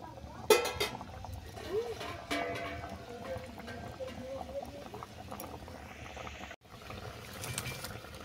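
Fish curry (macher jhal) with kumro bori simmering in a pan, faint bubbling and soft clinks of a utensil, quiet and close.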